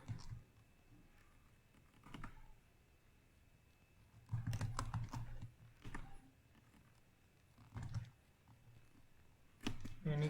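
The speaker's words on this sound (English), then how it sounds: "type any character and hit enter" Quiet clicking of a computer keyboard comes in short clustered bursts of keystrokes with pauses between, close by, alongside someone talking during an Arduino serial communication demo.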